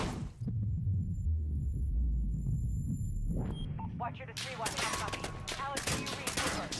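Modern Warfare video game gunfire, a low rumbling hum that gives way to a dense, rapid burst of shots and automatic fire, with a player's voice talking over it.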